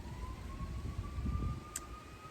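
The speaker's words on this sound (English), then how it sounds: "we have sirens in the background, some sirens" Siren wailing steadily in the distance behind a low background rumble, a faint continuous tone rising slowly, with no talking.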